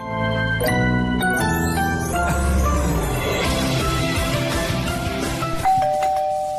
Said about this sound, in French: quand c'est pas les journalistes de gala, c'est la sonnette